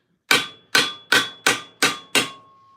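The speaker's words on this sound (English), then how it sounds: "the reason it looks like it's easy for me is because I'm using a small hammer" A small hammer strikes metal armour six times at a steady pace, each blow a sharp, close, ringing clank that fades quickly, the last leaving a faint lingering metallic tone.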